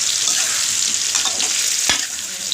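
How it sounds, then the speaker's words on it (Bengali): Tomato, ginger and black pepper fry and get stirred for chicken cooked with whole spices and no water. A steady, bright sizzle runs throughout, with a scrape of the spoon near the end. "এবার ভাজার পর টমেটো দেওয়া হলো আর গোলমরিচ দিয়ে আবার ভালো করে নাড়া হবে।"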